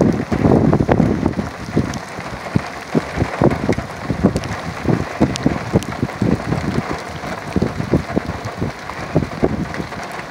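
Heavy rain and strong wind gusts during a severe thunderstorm, heard from under a cab roof: a loud, dense roar of rain with rumbling gust buffeting and repeated sharp patters throughout.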